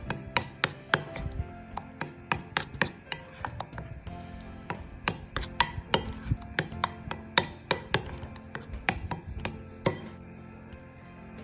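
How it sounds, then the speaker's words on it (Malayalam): Cupcake batter with baking soda being mixed in a bowl, giving a steady run of sharp spoon-on-bowl clinks and scrapes at close range, with no talking. "എന്നിട്ട് നന്നായിട്ട് മിക്സ് ചെയ്യാം"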